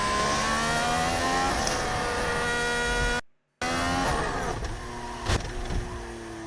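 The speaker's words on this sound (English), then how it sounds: "Did you hear him building the revs there, or did you hear him go onto the rev limiter?" A Formula 1 car engine revs hard at high pitch, climbing toward the rev limiter, cuts out abruptly for a split second, then resumes steadily running with a sharp pop near the end.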